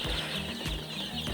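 Chickens on a poultry farm in winter cluck in short, repeated calls close by, while rice-husk bedding is turned over.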